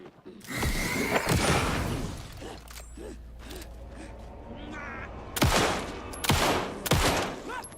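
Gunfire from the horror game Alan Wake 2: several sharp, loud shots ring out in two clusters, with creaking and mechanical clatter in the quieter gaps between them.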